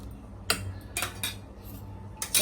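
Spoon scraping and clinking against a metal pot while halim kheer is stirred, a handful of sharp irregular knocks spaced over a quiet background with a low simmering hum.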